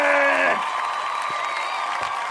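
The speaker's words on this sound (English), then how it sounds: "Do the random applause thing again." Canned applause and crowd cheering play as a sound effect during a livestream about Nintendo and Mario Kart. The clapping swells up loud and even, right after a brief voice at the start.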